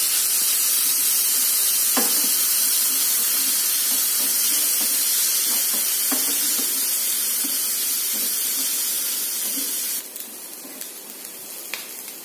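Grated carrots fast-frying in a pan give a steady close hiss and sizzle, with a few soft stirring clinks, and the sound thins out near the end.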